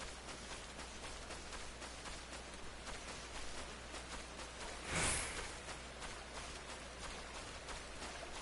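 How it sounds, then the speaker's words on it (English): Steady rain hisses as dense broadband noise in a video game, constant and enveloping, with one brief louder whoosh near the middle and no voices. "Oh, it's raining."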